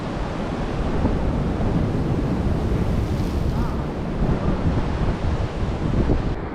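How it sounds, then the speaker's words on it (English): Big ocean waves splash and surge against a fishing boat out at sea, a steady loud roar of churning water and spray mixed with wind buffeting the microphone. "Been getting splashed by these big ass waves"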